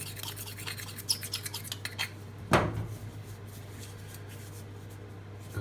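Excess metal being snapped off a lower chrome-cobalt denture casting in a dental lab, a sharp metallic crack followed by light clinking and scraping of metal pieces, close and alone.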